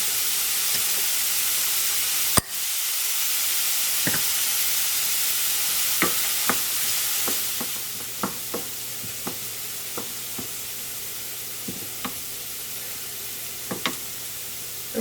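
Onions sizzle steadily in a hot pan with a bright, constant hiss, punctuated by scattered light clicks and taps from stirring, fairly close with no voices.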